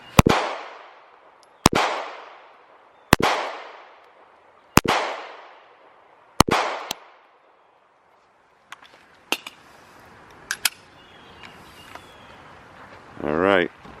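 Five loud gunshots at a shooting range crack out at a steady pace about one and a half seconds apart, each with a ringing decay, followed by quieter clicks, handling noises and a brief rustle.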